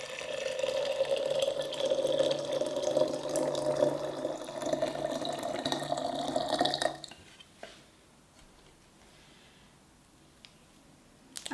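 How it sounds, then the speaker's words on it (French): About a litre of water pouring into a container for green tea, a steady splashing and gurgling stream lasting several seconds before stopping abruptly, followed by quiet with a faint clink at the end. "Et je vais rajouter environ 1 litre d'eau."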